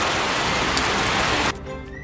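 Rain falling steadily as a dense, even hiss for most of the stretch, then dropping away abruptly to a quieter, thinner background near the end.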